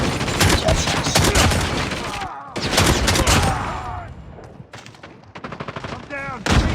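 Gunfire in a shooter video game rattles out in loud, rapid bursts separated by short pauses, mixed with brief in-game voice callouts.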